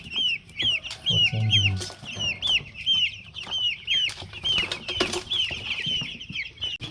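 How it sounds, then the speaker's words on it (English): Young broiler chickens, two weeks old, cluck and chirp in a steady overlapping chorus close by, with scattered rustling and light movement among the flock. "These are 14 days old broilers."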